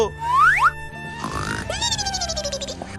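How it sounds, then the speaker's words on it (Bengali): A man snores in a cartoonish way: a rising whistle, then a rough grunting inhale and a long wavering falling tone, close and fairly loud. "বাবা তো নাক ডাকছে"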